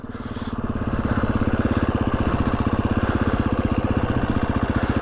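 A motorcycle engine revs in second gear during a wheelie attempt, a steady loud throbbing drone that swells after the first second and holds with a regular pulsing beat, close by and without talk.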